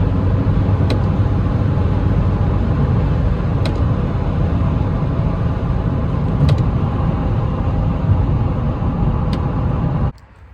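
Steady, loud road and engine drone from an Audi RS3 8P cruising along a bypass, with tyre roar and a few faint ticks over about ten seconds, cutting off abruptly at the end.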